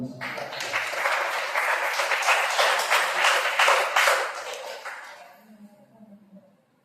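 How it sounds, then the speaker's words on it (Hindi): A church congregation claps loudly and energetically during a Hindi Sunday service. The dense, steady applause lasts about five seconds and then fades quickly to quiet. "आइए एक बार उस पवित्र परमेश्वर के लिए जोरदार तालियां हो"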